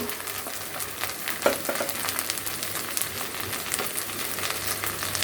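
Ground turmeric and coriander going into a pan of frying onions and green chillies for a rohu fish with radish curry, producing a continuous crackling sizzle with scattered stirring scrapes and one brief clank.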